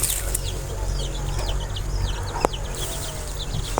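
Chickens cluck and chirp close by over a steady low hum, with scattered higher bird calls throughout.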